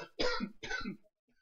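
Two quick, fairly close coughs from a person, the second slightly softer, followed by near silence.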